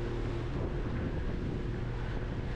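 Strong wind roars across a small boat out on rough water in Botany Bay, a dense, constant rush of gusts and hull and water noise with no speech.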